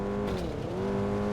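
A car accelerating in the Pursuit Force video game, a steady loud engine drone whose pitch dips briefly and then climbs again.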